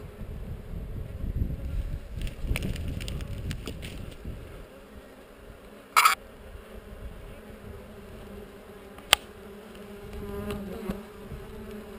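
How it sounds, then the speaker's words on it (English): A steady buzzing hum of many honeybees at a hive on heather fills the air, with faint wind and a couple of brief clicks. "The gentle hum of contented bees."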